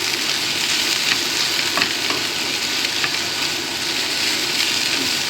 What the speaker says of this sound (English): now I'm going to add the mushrooms. This will take a couple of minutes just to soften those.